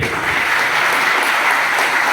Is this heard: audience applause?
yes